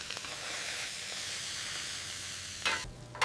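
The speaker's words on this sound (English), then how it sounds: "A hard sear builds texture on the outside while the center stays controlled." Fish searing in a hot pan gives a steady, close broadband sizzle and hiss throughout, with a sharper crackling burst near the end and no talking.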